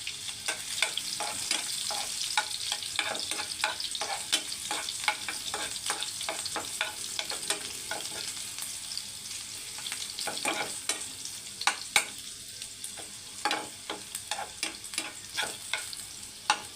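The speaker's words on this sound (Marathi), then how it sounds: "आता हे तेल चांगलं तापलेलं आहे तर आपण त्याच्यात आधी टाकूया हिरवे मिरचीचे तुकडे आता आपण यात घालूया भरपूर अशी लसूण खेचलेली लसूण" Green chili pieces and plenty of crushed garlic fry in well-heated oil for a raw jackfruit bhaji. A lively, crackling sizzle is punctuated by rapid, repeated spatula clicks and scrapes against the pan, close up and without voices.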